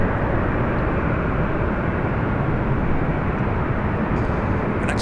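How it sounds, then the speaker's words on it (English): An Alaska Airlines Boeing 737-800 arriving at Los Angeles International from Honolulu gives a continuous broad roar of jet noise, loud and steady throughout with no talk. "that was the Alaska 737-800 coming in from Honolulu"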